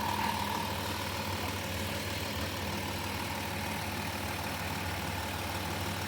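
A van's powerful motor idling steadily with the hood up, a constant low rumble with no change in pitch, close and alone.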